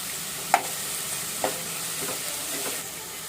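Ginger garlic paste sizzling in a pan of chopped onions and green chilies for an Andhra egg and dried prawn curry, a soft steady frying hiss broken by a few sharp spoon knocks.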